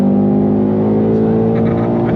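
A 2025 Ford Mustang Dark Horse with a naturally aspirated V8 pulling hard on throttle, a loud, steady engine drone with strong low harmonics heard close from inside the car.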